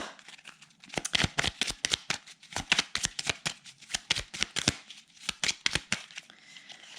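A deck of oracle cards is shuffled in a rapid run of crisp riffling bursts close to the listener, with brief pauses between bursts and no voices.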